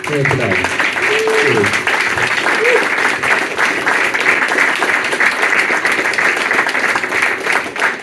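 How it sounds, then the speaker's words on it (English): Sustained applause from a large crowd, steady and loud throughout, with a few faint voices calling out near the start. "give a warm round of applause, please, for the legends we have here today"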